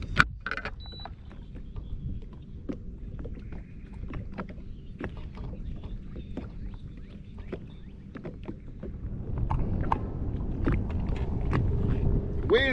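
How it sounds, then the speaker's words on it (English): Wind buffets the microphone out on the water while crappie fishing from a small boat, a steady low rumble with scattered knocks and clicks that swells louder toward the end. "I just don't like to hear all that wind blowing."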